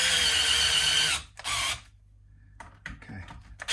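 Electric drill boring a hole for mounting a guitar neck, a loud whining burst that stops, restarts briefly, then gives way to quiet handling clicks and small knocks up close.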